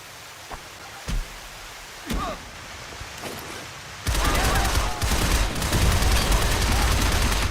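In the video game Shadow Complex, a few sharp, separate gunshots are followed by exploding barrels that set off a sustained, loud, roaring blast mixed with rapid gunfire.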